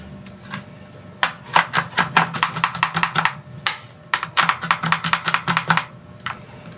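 Garlic being pounded for paksiw, heard as rapid, close, sharp knocks in two long rhythmic bursts with a short pause between them, plus a stray hit at the end. No one talks.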